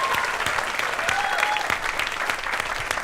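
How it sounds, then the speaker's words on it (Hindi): A studio audience at a comedy show taping claps loudly and continuously, with dense, even applause filling the room from start to finish. "एक ताली हो जाए"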